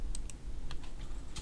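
A few faint, sharp computer mouse clicks are spaced irregularly over a quiet room hum.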